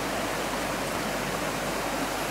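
A river running through forest on the way to a waterfall: a steady, broadband rushing wash of flowing water, constant and fairly loud throughout with no voices.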